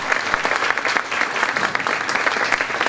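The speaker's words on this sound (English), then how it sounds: "Another round of applause for this great piece live and those great soloists" Audience applause for a school spring concert piece and its soloists, dense steady clapping from a large crowd, loud and continuous throughout with no talk.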